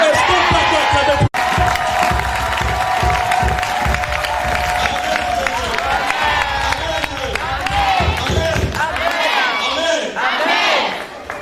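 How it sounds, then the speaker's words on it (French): A church congregation acclaiming: a large crowd shouting and cheering together at full volume, with clapping and a sharp bang near the start, sustained for several seconds before fading slightly. "Est-ce qu'on peut acclamer?"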